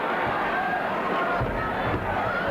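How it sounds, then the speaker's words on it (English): Wrestling arena crowd chanting and roaring at a Central States All Star Wrestling match, a dense, continuous crowd din with rhythmic swells, heard from within the audience. "the crowd picking up the chant, 2, 2"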